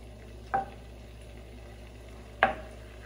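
Chicken being stir-fried in a pan before vegetables go in, with a faint steady background hiss and two brief louder scraping stirs, one early and one near the end.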